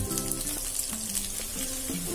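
Cauliflower frying in a pan of popping mustard seeds, a steady close sizzle with faint scraping, no voices.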